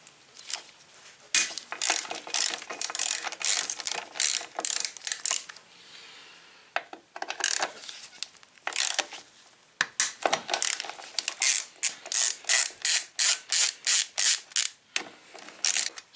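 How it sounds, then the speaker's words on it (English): A ratchet loosens the 12mm brake caliper bolts on a Honda SH300i scooter, giving rapid close clicking bursts in repeated strokes, separated by short pauses and growing into a steady run of even pulls toward the end. "it's these two bolts actually to drop the caliper out now. Try 12mm. Yep. Let's loosen these off,"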